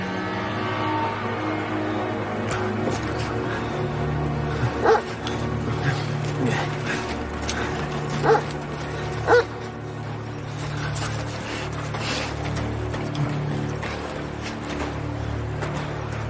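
Search dogs near a river bark and whimper, with a few sharp, distinct barks rising over a constant, noisy outdoor background.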